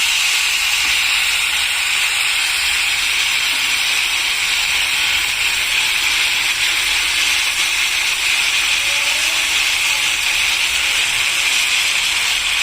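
Thick ragi dosa batter cooks on a hot griddle pan, producing a continuous loud, even hiss and sizzle that holds steady the whole time. No voices are heard over it.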